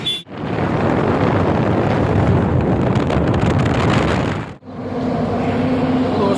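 A motorbike rides along a highway in Rajasthan toward Udaipur. Heavy wind buffets the microphone in a loud, steady roar that cuts out briefly twice.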